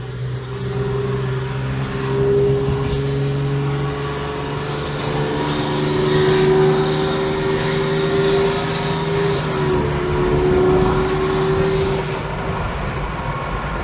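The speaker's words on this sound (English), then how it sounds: "we've got a lot of wind noise because I've got to have the windows open" Steady, loud wind roar fills the cabin of a Vauxhall Senator B 3.0i CD driven with its windows open, blended with a low, even engine hum throughout.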